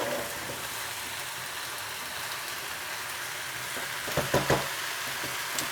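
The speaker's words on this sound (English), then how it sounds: "I get the spatula underneath and I just shovel it over and move the wok round" Food sizzles steadily in a hot wok for a satay Madras curry with chicken or pork while a spatula shovels and turns it, a few louder scraping clatters standing out near the end.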